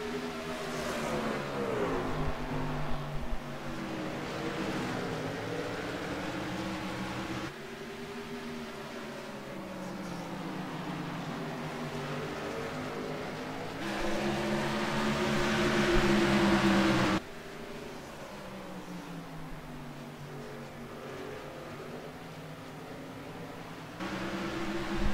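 Racing trucks in a racing video game circle a short oval in steady, continuous engine drone, pitch rising and falling with each lap, loud and sustained, with a few abrupt shifts in level as the view changes.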